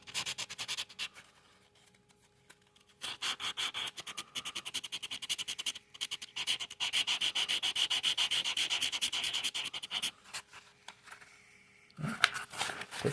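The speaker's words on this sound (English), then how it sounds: "here's a fine grit sandpaper that should pick up that little bit of epoxy without" Fine-grit sandpaper rubs epoxy off an aluminum piece in a home workshop, a close, steady rasping in long bursts separated by short pauses, with a brief clatter near the end.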